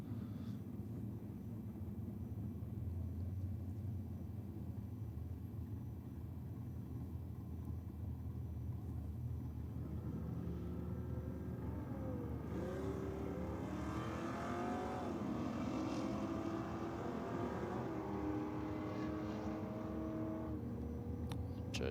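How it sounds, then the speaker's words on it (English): Ford XY Falcon drag car at a no-prep drag racing event, its engine roaring steadily through a tough burnout with rising revs and tyre squeal building in the second half, loud and continuous against crowd ambience. "Joe Selby, those trademark tough burnouts in the XY Falcon"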